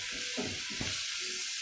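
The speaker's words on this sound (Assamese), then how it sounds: "মই এতিয়া বনাম বেটাৰ কাৰণে এটা কণী, মানে প্লেনকৈ ভাজি দিম" A plain egg fries in a pan with a steady, close hiss and crackle, faint soft stirring knocks underneath.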